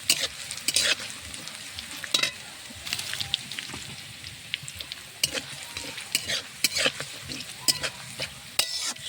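Garlic, black cumin and fennel seeds frying in hot oil, a steady close sizzle broken by repeated sharp spatters and utensil scrapes.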